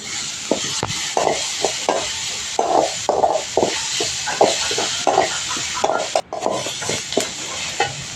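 Ground green chillies, garlic and peanuts roasting in oil in a pan, with a steady close sizzle and repeated scraping stir strokes of a spoon against the pan, no voices.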